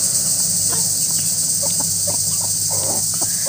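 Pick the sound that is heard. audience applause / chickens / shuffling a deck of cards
chickens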